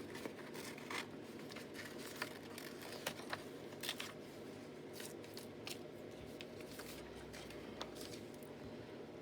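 Scissors snip through paper as collage notes are cut out, giving soft, close, irregular cuts and rustles over a quiet background hiss, with no talk.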